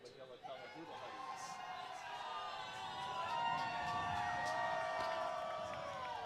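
A multi-generational crowd at a New York ultimate frisbee game cheers and whoops, the roar swelling steadily and holding loud through the end, with shouts rising over the mass of voices.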